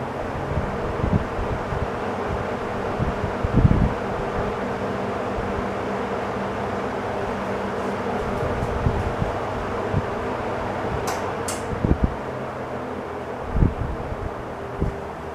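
An ESKIMO box fan, model 20137, runs with a steady whooshing hum and a low drone, broken by occasional faint knocks and thumps.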